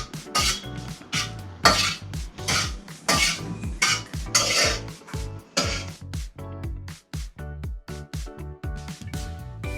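Ingredients for vatha kulambu frying in hot oil in a pan, with steady clattering of a metal spoon against the pan and repeated stirring and scraping strokes, loud and close.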